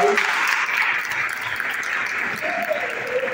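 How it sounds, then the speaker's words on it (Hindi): Audience applause at a World Hindi Day gathering in Panama, a dense, steady wash of clapping that holds loud from start to finish, with faint voices mixed underneath. "तो फिर एक बार उनके लिए जोरदार ताली।"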